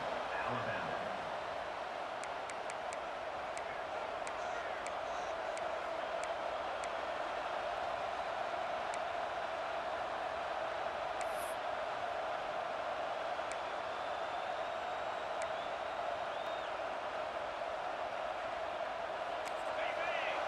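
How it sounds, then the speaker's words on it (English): A broad, steady roar of a large crowd at a Vanderbilt versus Alabama college football game fills the whole stretch, distant and unbroken, like a packed stadium humming with noise. "Listen to the crowd energy here in the early going."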